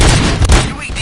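Gunfire booms in the RoboCop video game, with dense blasts and thuds layered in heavy noise, loud and near throughout.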